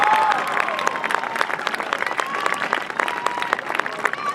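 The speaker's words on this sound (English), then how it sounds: "please give Mr. Panish and Mr. Ryan a round of applause as they make their way to the stage" A graduation crowd applauds as two guests walk to the stage, with dense clapping and some cheering that stay loud and fairly close throughout, while faint voices and a brief whistle-like tone sit underneath.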